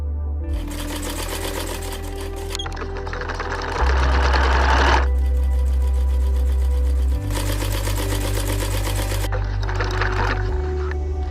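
Sewing machines run steadily in a village tailoring class, a loud continuous mechanical whir with a rapid needle chatter that shifts in pitch and intensity as machines start and stop, close by with no talk.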